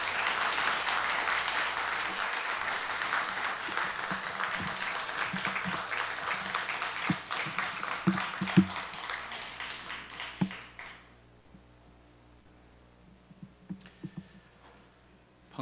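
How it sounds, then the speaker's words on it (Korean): A church congregation at an evening family worship service applauds to welcome a pastor: sustained, dense clapping for about ten seconds, then it thins out and fades to a few scattered taps. "우리 나오실 때 박수로 환영해 주시기 바랍니다."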